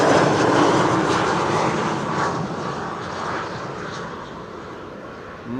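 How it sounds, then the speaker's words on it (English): A KLM Embraer 190 from Prague comes in on final approach at Amsterdam Schiphol, its steady jet engine rumble fairly loud at first and easing gradually as it passes, with no voices. "KLM Flight 1352, Embraer 190 arrived from Prague"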